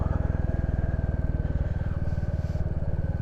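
A Royal Enfield Classic 350 single-cylinder motorcycle thumps along steadily at close range, its low, even exhaust pulse running loud and continuous while the bike is ridden, with no talk over it.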